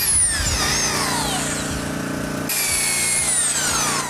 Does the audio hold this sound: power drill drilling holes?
yes